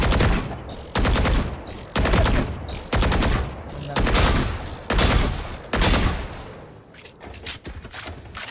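Rapid automatic gunfire from the tactical shooter game Valorant, fired while the player runs, comes in loud repeated bursts about a second apart, each a dense rattling volley, with quieter scattered shots near the end.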